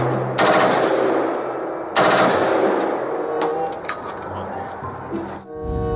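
Two loud gunshot blasts from a long gun in Jurassic World Evolution 2, about a second and a half apart, each fading into a rattling echo, with a soft electronic chime at the end.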